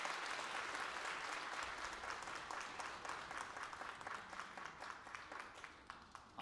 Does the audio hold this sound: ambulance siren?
no